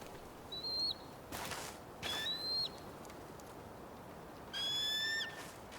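An eagle in the game Tell Me Why gives three thin, high, whistling cries spaced a second or two apart, the last one longer and layered, over a quiet outdoor background.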